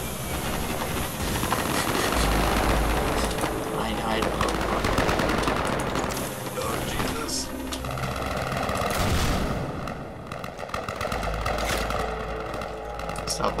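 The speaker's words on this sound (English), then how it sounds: "They're firing like crazy" Garry's Mod video game battle with War of the Worlds tripod troops: relentless rapid gunfire and heavy mechanical roar that fill the whole stretch without a break, loud and close, with a voice talking over it.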